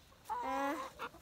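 A chicken being fed outdoors gives one drawn-out, tonal call followed by a short cluck, close by but fairly quiet, with no one speaking over it.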